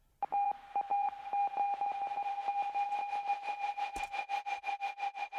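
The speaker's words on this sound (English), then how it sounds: "So this is some Morse code." Morse code beeps in an electronic dance track, a steady tone pulsing in rapid even bursts, joined by a second higher tone and growing fluttery and washed with reverb toward the end.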